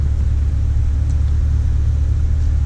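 A cammed Corvette V8 rumbles steadily and loudly at low speed as the car begins to pull away, a deep continuous engine drone throughout with no talking.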